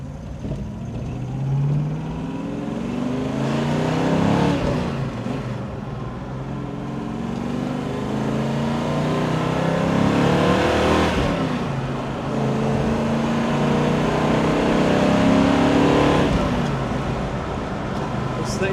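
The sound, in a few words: 1969 Mustang Mach 1 428CJ driving on track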